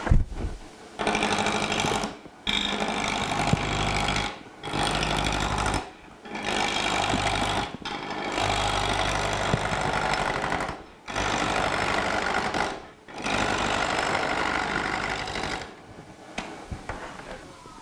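Wood lathe spinning a spindle while a roughing gouge cuts it, a loud rough grinding whir in repeated passes of about two seconds each, separated by brief near-silent gaps.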